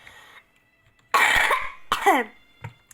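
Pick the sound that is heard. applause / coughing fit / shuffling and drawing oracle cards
coughing fit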